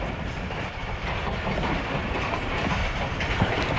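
The Thal Express rolls along between Rawalpindi and Multan, a steady loud rumble with rhythmic clickety-clack of wheels over rail joints heard from inside the moving train, with no talk.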